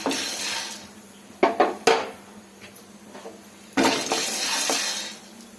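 Roasted seeds being moved from a pan onto a plate, heard as several sharp clinks and scrapes of metal and dishware, with a longer rattling pour near the end.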